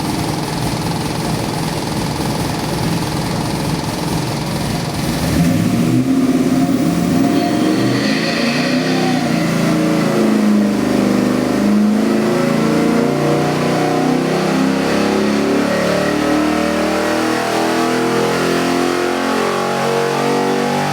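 A 427 cubic inch LS7 V8 in a 1955 Chevy Bel Air revs hard, its loud, close roar climbing and then settling into a steady high-RPM drone that holds for the rest of the clip, with no talk.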